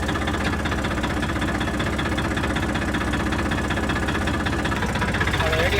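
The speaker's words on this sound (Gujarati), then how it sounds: "હાલો તો ટ્રેક્ટર જો આ લઈને નીકળવાનું છે આપણે. ગાડી સ્ટાર્ટ કર." A tractor engine runs in a steady, loud, low throbbing idle with a regular knocking pulse, close by and continuous throughout.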